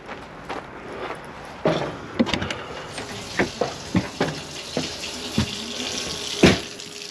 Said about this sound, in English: I still have the water turned on inside.